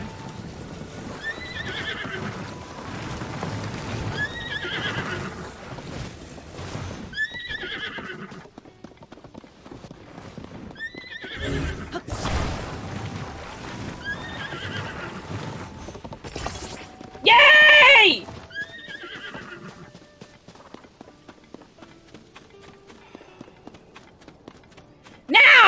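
Horse sounds in the video game Tears of the Kingdom: repeated clip-clopping hooves with several whinnies spaced across the stretch, a loud crash midway and a sharp burst near the end, while a player talks now and then.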